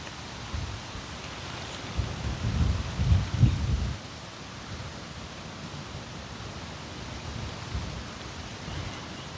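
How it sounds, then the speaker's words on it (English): Wind blowing outdoors as a steady, broad rushing hiss, with a stronger low rumbling gust in the first few seconds, then settling into an even windy wash. "And with the wind picking up right now"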